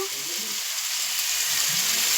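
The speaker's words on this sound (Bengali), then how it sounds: "পেঁয়াজটা দিয়ে দিয়েছি, ভালো করে ভেজে নিই" Onions fry in hot oil in a pan, a loud, steady hiss and crackle that stays close and constant throughout, with faint sounds of movement underneath.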